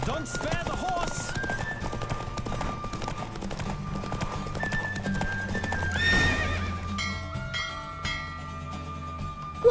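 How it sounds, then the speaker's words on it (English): Horse hooves pound at a gallop during a race in the Witcher 3 video game, with neighs and whinnies breaking out over steady game music, loud and close throughout. "Don't spare the horse."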